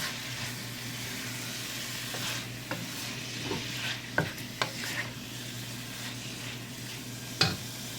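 Rice noodle soup ingredients stirred in a pan, with a steady low sizzle and scattered utensil scrapes and taps, a few sharper knocks standing out near the end.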